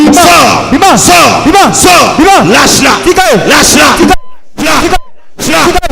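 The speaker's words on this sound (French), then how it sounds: "Elle va crier fort." A woman cries out loudly and repeatedly during a fervent Sunday church prayer service, wailing, rising shouts layered with other voices before breaking into short bursts separated by silences.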